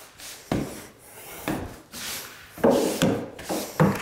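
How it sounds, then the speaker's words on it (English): Broom bristles sweep out the cavities between wooden floor joists during a renovation, a series of close scratchy rubbing strokes in a steady rhythm, about six passes with no talking. "So, good little sweep, goes a long way."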